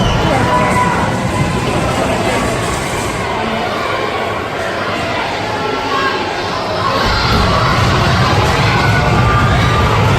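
Ice hockey crowd in a British rink roaring and cheering during a fight on the ice, a loud sustained wall of shouting and whistles with a play-by-play voice running under the noise.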